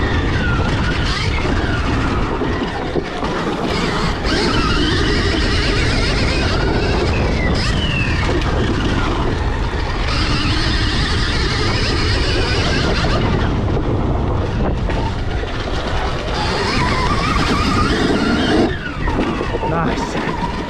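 A Stark Varg electric dirt bike ridden off-road, its loud continuous whine and rushing drivetrain noise rising and falling with throttle throughout, with wind and terrain roar and a voice speaking over it.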